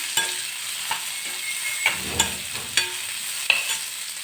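Garlic frying in fat in a pan for a Gujarati brinjal dish, with a soft steady sizzle and periodic scraping stirs of a spoon, close and without speech.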